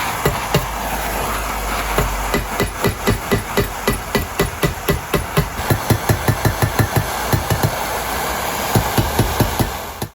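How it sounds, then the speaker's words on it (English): A hammer taps rapidly and evenly on a metal part of a 1982 Suzuki RM 250 motocross bike, knocking down a dent with dozens of sharp, close, loud strikes over a steady background hum. "Use the hammer to tap down the high walls"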